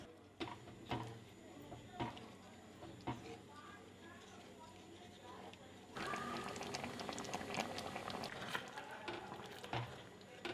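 Pork and lentil gravy thickened with rice flour bubbling in a pot in a Tripuri kitchen, a steady soft simmer with scattered pops and clinks, growing busier and louder partway through, with a voice faintly present.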